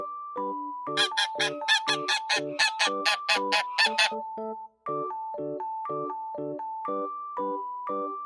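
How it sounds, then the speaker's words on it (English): A goose gives a series of nasal honks, around a dozen in quick succession, followed by a few slower, spaced calls, fairly close and clear. "Goose."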